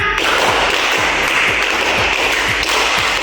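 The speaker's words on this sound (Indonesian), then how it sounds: "dua kali tepuk lima" A classroom of students claps together in a rehearsed 'clap five' pattern, done twice, as a teacher-led attention call; the dense, close group claps fall into a steady, repeating rhythm with no talking over them.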